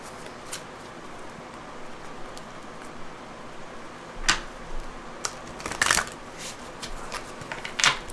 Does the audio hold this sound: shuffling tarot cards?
yes